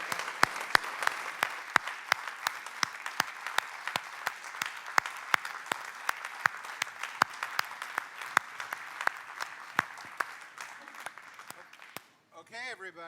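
Audience at a culture summit in Abu Dhabi applauds steadily for about twelve seconds, a dense room-filling clatter of many hands with scattered sharp claps standing out, before it fades and a voice begins.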